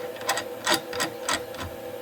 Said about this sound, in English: Experimenting with feeds and speeds on the thread milling